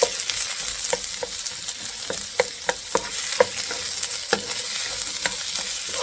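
Onions sizzle steadily in a hot pan with golden-browned garlic, a constant frying hiss broken by repeated sharp scrapes and taps of a utensil stirring, close and with no talk.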